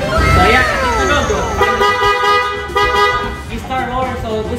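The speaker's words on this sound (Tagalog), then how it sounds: "G-Star horn. So busina to para sa mga sasakyan." A G-Star aftermarket horn fitted to a Yamaha NMAX scooter blares several loud, sustained honks at close range, with a voice briefly underneath.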